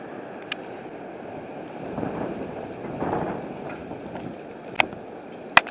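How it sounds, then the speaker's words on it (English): Strong wind blowing outdoors on a very windy day in Colorado Springs, a steady broadband rush with gusts swelling around the middle, plus a couple of sharp knocks near the end. "I just wanted to get a video of how very windy it is"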